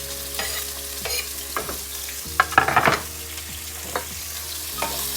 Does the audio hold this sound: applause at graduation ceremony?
no